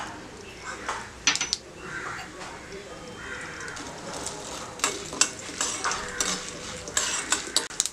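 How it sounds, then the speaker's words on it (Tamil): Mustard seeds and urad dal crackling and sizzling in hot oil in a kadai, a steady frying hiss with scattered sharp pops and utensil clinks, close up, with no talk over it. "எண்ணெய் காய்ஞ்ச உடனே கடுகு, உளுத்தம் பருப்பு போட்டுக்கலாம்."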